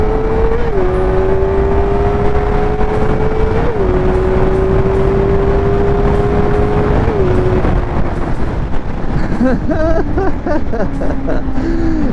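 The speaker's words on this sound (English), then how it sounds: "this bike feels pretty damn stable going down the interstate here" A Kawasaki Ninja ZX-4R small-displacement inline-four motorcycle cruising on an interstate, its high engine whine rising and stepping through gear changes under heavy wind rush, loud and close throughout.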